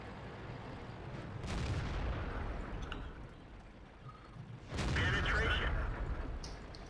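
Tank cannon shots in World of Tanks, two heavy booming blasts a few seconds apart, the second louder and closer, each followed by a rumbling decay, with someone talking between them.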